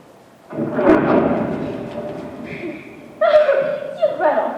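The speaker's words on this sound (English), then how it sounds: "Not afraid of a thunderstorm, are you?" A thunderstorm sound effect plays in a high school stage production of The Sound of Music, a rolling rumble that swells, fades and strikes again, with chuckles and voices from the theatre mixed in.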